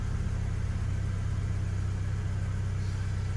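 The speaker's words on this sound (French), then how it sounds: "Donc, on démarre le véhicule." A 2.0L TFSI engine in an Audi S3 runs steadily after starting, a low, even mechanical hum and rumble close by with no talk over it.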